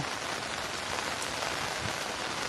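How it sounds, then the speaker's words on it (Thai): Steady rain falls outdoors during a fishing outing, a dense even hiss of drops on surfaces with no voices, soft and continuous throughout. "ฝนตกครับ ฝนตกอยู่ทงหน้าครับ"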